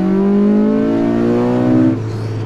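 Custom car built on a Honda Civic chassis revs hard, its engine note climbing steadily for about two seconds before cutting off, loud and close with no voices.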